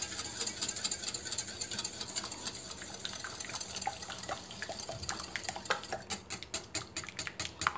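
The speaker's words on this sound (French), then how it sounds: "Voilà, on commence à fouetter là." Juice for mboile is whisked by hand, a quiet, quick run of wet clicking and tapping strokes that grow into a sharper, evenly paced beat toward the end.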